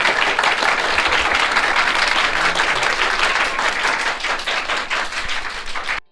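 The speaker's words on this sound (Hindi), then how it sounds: "चलो एक बार ताली हिमांशु भैया के लिए बजा दो" An audience at a school cultural event claps steadily for Himanshu, dense sustained applause filling the room before tapering off at the end.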